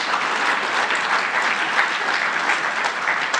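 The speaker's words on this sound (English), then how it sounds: "Applaud them for that." Applause from the audience at a Gauteng economic gathering: a steady, dense wash of clapping from a large crowd that holds evenly throughout.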